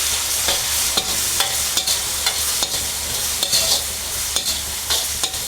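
Vegetables for veg fried rice, dressed with chilli sauce, being stirred and fried in a pan, with repeated scraping strokes of a spoon over a steady close sizzle and no talking.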